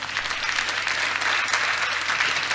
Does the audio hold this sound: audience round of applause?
yes